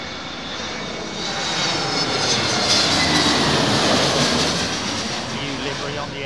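Aer Lingus airliner at London Heathrow in high winds, a loud close jet engine roar with a high whine that swells and then eases, with talk over it.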